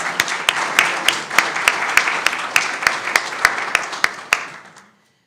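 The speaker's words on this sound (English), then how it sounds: "Let's give candidate Turner a round of applause" Audience applause at a county candidates' forum, a steady dense round of clapping from a room of people that rises, holds, then tapers off and stops near the end.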